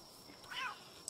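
A small cat creature in Palworld gives a single short, soft meow, faint and quick against a quiet game background, with a tiny click just after.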